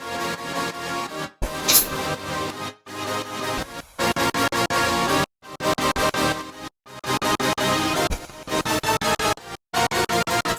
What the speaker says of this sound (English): these trumpets actually ended up being my favorite part of the song at one point